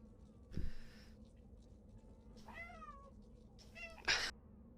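A house cat meows in several short, rising cries, a couple of them bright and strained, spaced out over a low steady background hum with no one talking.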